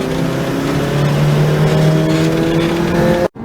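A sports car at full throttle on a race track, its engine howling loud and steady with a slowly rising pitch for about three seconds before cutting off abruptly, then resuming faintly.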